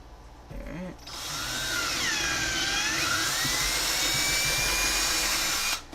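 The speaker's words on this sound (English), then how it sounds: "Let the drill bit do the work." A power drill whines up to speed and bores steadily into a hard plastic case for several seconds, its pitch wavering slightly, then stops.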